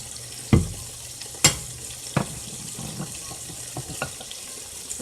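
Sardine goes into a cooking pot of vegetables, giving a few sharp splashing thuds and clanks followed by soft sizzling and faint stirring knocks close by, with no talk.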